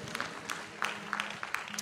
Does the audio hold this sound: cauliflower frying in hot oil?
no